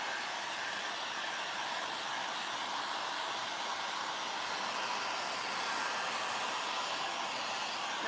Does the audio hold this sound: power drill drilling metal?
no